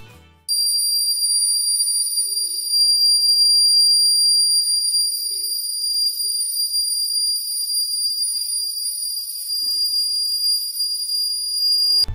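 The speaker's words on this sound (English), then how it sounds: "the buzzer was making a sound and the LEDs were glowing" A homemade kitchen gas leak detector buzzer sounds a loud, continuous high-pitched piercing tone that starts abruptly and holds steady for about eleven seconds before cutting off.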